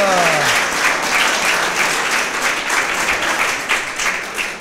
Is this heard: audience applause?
yes